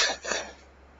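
A person coughs and clears their throat, a short burst of two or three rough, close exhalations that fade quickly into quiet room tone, with no speech.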